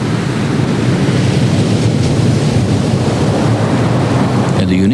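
Ocean surf and strong wind off Maui, Hawaii, as a loud steady roar of breaking waves with heavy wind buffeting the microphone, continuous and close throughout.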